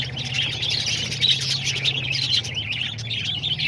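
Two English budgies chirping steadily in a home aviary, a continuous busy stream of bright twittering calls, close and moderate in level, with a low hum underneath and no talk.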